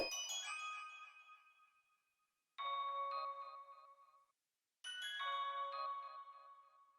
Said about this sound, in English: Super generic bell, and I made this pattern here.